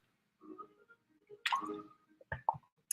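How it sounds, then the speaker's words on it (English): A few sips drunk from a bottle of water, quiet wet gulps and squishy mouth sounds in short irregular bursts with silent gaps, close and faint, no talking. "From this bottle of water that I'm drinking from now"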